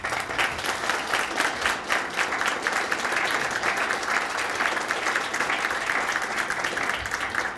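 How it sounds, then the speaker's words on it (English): A seated audience applauds after a lecture on Japan-Armenia relations, a steady, dense wash of clapping that holds evenly for the whole stretch with no voices over it. "One more round of applause for that outstanding and thorough presentation."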